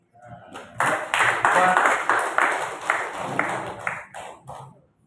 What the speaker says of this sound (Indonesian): Tepuk Bapak Ibu semua